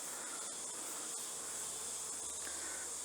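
Continuous buzzing of a cluster of swarming bees, a steady high drone filling the whole stretch with a few faint clicks, close and constant.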